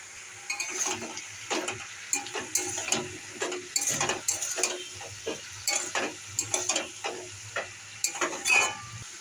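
A fish head frying in a pan for Bengali chorchori with turmeric and salt, giving a steady sizzle broken by many close, rapid scraping and stirring clicks of a utensil against the pan.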